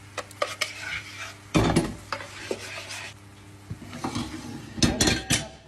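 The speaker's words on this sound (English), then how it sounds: "we're gonna put the 2 egg yolks into the bechamel sauce now that it's not piping hot" A utensil stirs egg yolks into warm béchamel sauce in a pot, making repeated clinks and scrapes of metal against the pan with a faint background hum and no talking.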